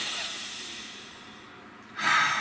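A slow, soft exhale fades out over two seconds, then a sharper, louder inhaled breath begins near the end, close to the mic and without words.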